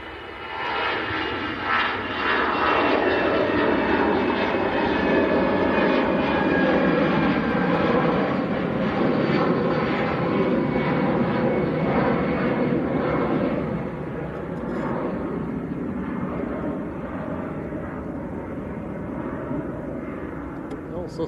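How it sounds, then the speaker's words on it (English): A Lufthansa airliner in Star Alliance livery at Manchester Airport gives off a loud, sustained jet engine roar that swells and then eases, heard at moderate distance with people talking over it. "This is Lufthansa in the Star Alliance scheme."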